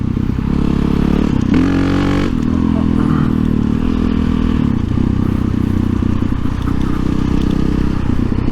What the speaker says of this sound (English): we are going to follow and see how Dan does on the V-strom